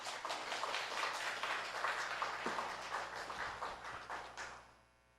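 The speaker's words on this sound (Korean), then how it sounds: "우리 처음 설교신데 나오실 때 큰 박수로 맞이하도록 하겠습니다." A church congregation in a Korean Sunday afternoon service claps to welcome a preacher, a soft, steady round of applause heard from a distance that fades out at the end.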